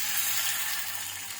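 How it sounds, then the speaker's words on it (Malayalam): Fish fries in hot oil in a pan for Kerala-style fish masala, giving a steady close hiss and crackle of sizzling with no talking. "പാൻ വെച്ച് ചൂടായതിനു ശേഷം ഓയിലൊക്കെ ഒഴിച്ചിട്ട് നമുക്ക് ഫിഷ് ചൂടാക്കി"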